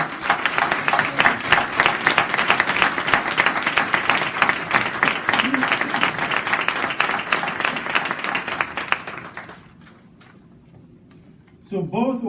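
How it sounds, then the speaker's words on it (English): A round of applause for award nominees at a hospital Black History celebration, steady clapping from a gathered audience for about nine seconds, then fading to quiet before a voice resumes. "could we give them a round of applause?"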